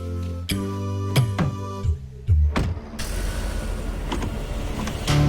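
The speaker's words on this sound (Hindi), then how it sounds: "ये गाड़ी नहीं रुक रही" A car running on its own and not stopping, a series of mechanical whirs and motor pulses early on, then a steady low engine rumble with a rough texture, fairly close and without speech.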